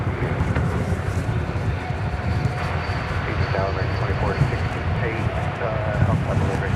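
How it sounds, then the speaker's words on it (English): An American Airlines Airbus A321 touches down at Dallas Fort Worth Airport, arriving from San Diego: a steady, rumbling jet roar with wind buffeting the microphone, continuous and moderately loud. "This Airbus A321 touching down from San Diego."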